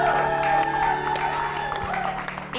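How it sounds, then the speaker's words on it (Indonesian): A studio audience applauds for Mbak Iko on a celebrity talk show, a dense, sustained clatter of clapping with scattered whoops under a bright tonal hum, continuing without a break. "tepuk tangan dong buat Mbak Iko"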